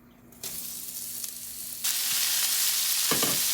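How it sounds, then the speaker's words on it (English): Beef browns in a hot pan for a homemade stew, giving a loud, close, continuous sizzle. It jumps louder as more meat goes in, and a short stirring scrape comes near the end. "I don't know how people do cooking videos and they don't get all that sizzling noise"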